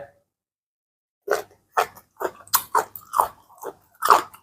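Close, crunchy chewing of pounded Thai lemongrass salad, with a run of about eight distinct bites and crunches after a quiet opening second.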